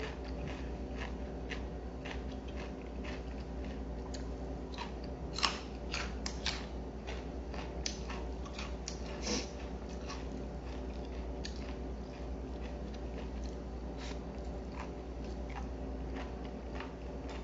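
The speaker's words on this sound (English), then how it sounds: "You just hear that crunch, it's just like so appetizing." Crunchy chewing while eating a sticky rice ball, heard as quiet, close, irregular crisp clicks and crackles over a soft background hiss.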